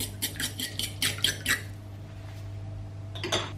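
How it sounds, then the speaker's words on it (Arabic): A bowl of beaten egg and milk with salt and pepper is whisked briskly, with a quick run of sharp utensil taps against the bowl, then a pause and a few more clinks near the end. "نخلط الكل"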